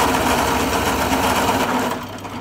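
A drill bores holes in a mild steel panel, making a continuous loud high-pitched whine and grinding whirr close by, which drops off slightly near the end.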